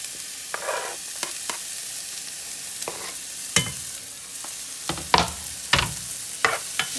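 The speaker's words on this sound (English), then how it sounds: "So now I will add the rest of my vegetables, including tomatoes, jalapeno pepper, and my chopped garlic" Chopped tomatoes, jalapeno pepper and garlic hit a pan of frying paneer curry. A soft, steady sizzle is broken by sharp clinks and scrapes of stirring at irregular intervals.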